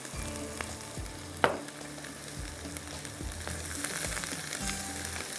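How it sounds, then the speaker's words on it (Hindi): Masala and onion fry in a pan with a steady close sizzle, while a utensil stirs and scrapes in repeated strokes, one louder clack near the start. "थोड़ा सा इसको इस तरह से भूनेंगे प्याज के साथ। अब ये भुना वाला मसाला"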